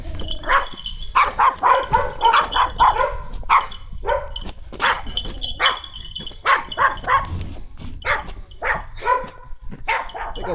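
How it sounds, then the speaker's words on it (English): A small dog in rural China barks rapidly and repeatedly in sharp yapping bursts, close and loud, with some whimpering yips mixed in and no talking. "It's like a little ass dog."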